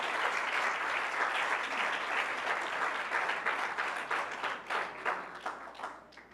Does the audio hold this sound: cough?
no